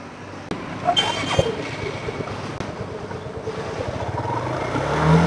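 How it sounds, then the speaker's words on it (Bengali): A used Suzuki Gixxer motorcycle engine idles and revs close by, a throaty low rumble with short throttle blips that builds louder toward the end, with some wind noise. "তো আমরা বাইকটির সাউন্ড কন্ডিশনও একটু শোনানোর চেষ্টা করতেছি আপনাদেরকে।"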